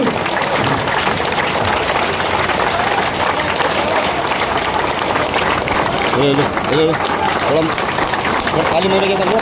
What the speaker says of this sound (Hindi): जोरदार तालियां बजती रहे एकनाथ शिंदे जी के लिए